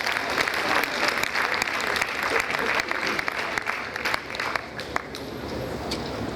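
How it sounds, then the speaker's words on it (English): An audience breaks into sustained applause, dense clapping from a crowd that holds steady for several seconds at a business opportunity event, with a voice faintly audible underneath. "Can you give him a round of applause there"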